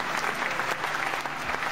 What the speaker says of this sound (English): let me hit you with the applause, dude